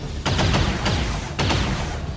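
Gunfire from a mech in the XCOM 2 video game: two loud, rapid bursts of shots, the first quick volley followed after a short pause by a second, with a steady game rumble underneath.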